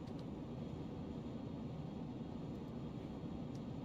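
Airplane engine roaring at steady volume during takeoff from a runway in the Juno: New Origins game, a continuous broadband drone with no breaks, alone without talk.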